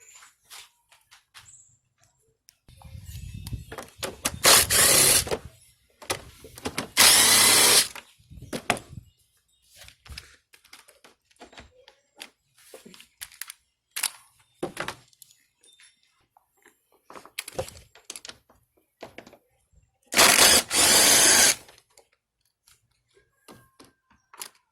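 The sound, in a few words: removing air filter housing fasteners with screwdriver or 8 mm socket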